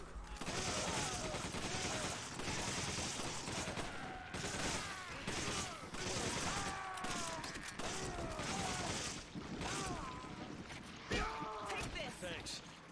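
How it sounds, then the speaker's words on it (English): Sustained bursts of automatic gunfire and machine-gun shooting from the Resident Evil 5 action game, loud and continuous throughout, with clanks, impacts and chaotic game effects mixed in and voices heard amid the din. "try to kill them all with the machine gun"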